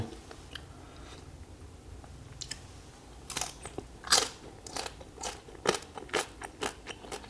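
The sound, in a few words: crunching a crispy bite of whole roast pig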